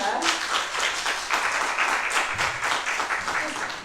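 Audience at a bisexuality community conference gives a round of applause, moderate clapping with some chatter underneath, steady throughout.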